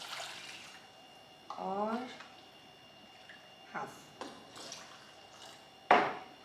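Water is poured into a cup in a kitchen while rolled oats are prepared: a short pour with a rising tone, followed by a few light knocks and clinks, with a brief spoken word.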